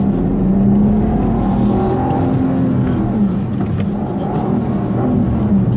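A 2015 Volvo V60 T6 in sport mode pulls hard from a standstill. The engine gives a steady, loud roar with a faint rising pitch, heard from inside the car with no talk.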